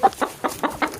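A hen clucks in short, sharp bursts, about six quick calls close to the listener, in a backyard flock during snowy weather.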